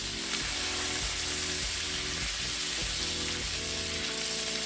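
Mashed garlic sautéing in butter in a pan, a soft steady sizzle with several low clunks and scrapes of a utensil, fairly quiet and without speech.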